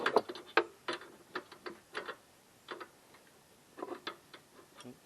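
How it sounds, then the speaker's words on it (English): A 14 mm wrench tightens a bolt while a Coleman CT200U-EX mini bike is assembled, giving quiet, irregular metallic ticks and clicks in short bursts, close and alone. "So it's the 14 millimeter wrench. And just tighten that right up."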